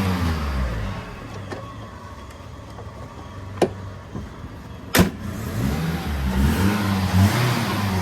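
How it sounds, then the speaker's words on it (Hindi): A 2014 Toyota Hiace Boqsa 200 van with a smooth-running engine idles close by, giving a low steady rumble; one sharp click and a loud knock break through before the engine note rises a little near the end. "स्मूथ इंजन है"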